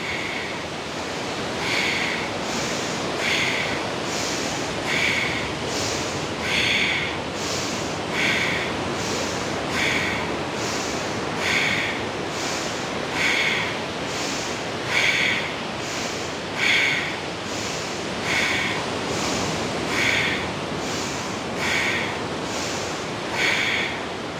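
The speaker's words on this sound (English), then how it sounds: "inhale, exhale, inhale, exhale, inhale, exhale, inhale" Rhythmic breathing during a yoga breathwork session outdoors at Bondi Beach at sunrise, steady repeated inhales and exhales about every one and a half seconds over a constant background wash of surf and wind.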